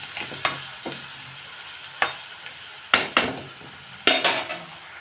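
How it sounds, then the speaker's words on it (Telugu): Onion, green chilli and turmeric fry in oil in a pan, a soft steady sizzle broken by several sharp metal clinks and scrapes as a utensil stirs, near and fairly loud. "వేగుతుంది."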